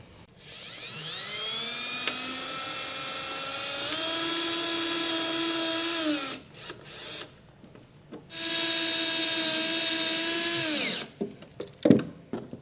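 A power drill driving self-tapping screws to mount a wiring plug on a 2020 Chevrolet Silverado whirs up to a high steady whine for several seconds, stops briefly, then spins again for another long run before winding down.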